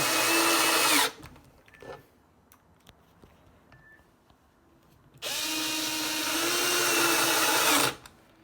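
A power drill whirs loudly in two bursts, about a second long and then about three seconds, with quiet handling noises in the gap between them.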